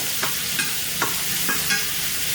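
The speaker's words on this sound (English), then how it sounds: "I'm just going to cook this down on low" Cabbage and smoked herring cooking down on low in a pot, a dense continuous sizzle with a few soft stirring scrapes spaced through it, close and steady with no voices.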